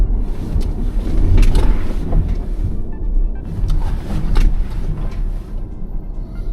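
A BMW X3 M50 swerves through a sudden lane change, its road noise and engine rumble a steady broadband roar with a few sharper surges, close and continuous throughout.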